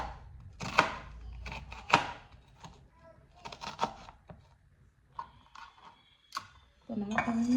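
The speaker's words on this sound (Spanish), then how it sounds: "Cortamos la cebolla." A knife chops an onion on a board, with sharp irregular cutting taps spaced out over several seconds, close and fairly quiet, ending with some clattering.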